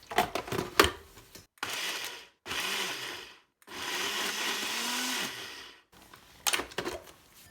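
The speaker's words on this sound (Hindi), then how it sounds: "सारी सब्जियों को ना हमने अब ब्लेंड कर लेना और हमने ना इनकी पेस्ट तैयार कर" A kitchen blender purees vegetables with water into a paste for drumstick (moringa) soup, running in three loud whirring bursts separated by short pauses, with clattering handling noises before and after.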